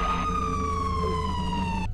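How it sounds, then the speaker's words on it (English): A wailing police-style siren from the Siren Cop character in a Roblox prison escape game, a loud, steady tone sliding slowly downward and cutting off abruptly at the end. "Oh my gosh, it's Siren Cop!"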